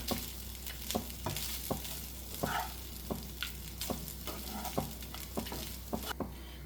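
Okra and masala frying in a pan, with a soft steady sizzle beneath rhythmic scraping stir strokes roughly every half second, close and fairly quiet.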